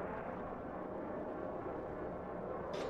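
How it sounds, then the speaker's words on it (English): Enemy aircraft flying in the game Planetside 2, a steady dense engine roar that holds at an even, loud level throughout with no break. "There are enemy aircraft here"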